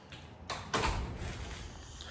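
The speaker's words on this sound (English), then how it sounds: "Shut the door for noise." A shop door being shut, heard as a sharp thud followed by a louder bang and rattle, close by and with no talking, in a workshop.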